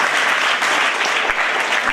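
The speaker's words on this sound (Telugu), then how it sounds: "చప్పట్లు కొడతామంట." An audience claps loudly and continuously at a children's literature event in a Bal Bhavan hall in Nizamabad. The dense applause fills the room, close and steady throughout.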